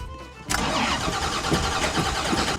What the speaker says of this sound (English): the vehicle unexpectedly stalls, but Tom Cruise, who did his own stunt driving, managed to restart it